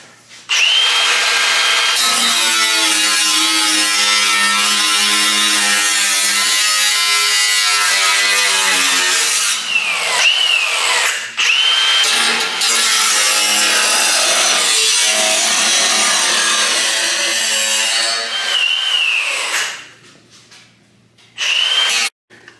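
A power saw cuts a piece off the bottom of a part on a 1970 Chevelle project, a loud, continuous grinding whine with brief pauses and squeals, ending in short bursts.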